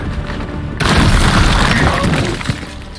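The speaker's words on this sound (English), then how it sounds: "I'll just drop some fucking statues on you" Statues are dropped and crash down in the video game Warhammer 40,000: Chaos Gate: an abrupt, loud smashing boom breaks in after a quieter stretch, followed by rumbling, shattering debris and a final thud.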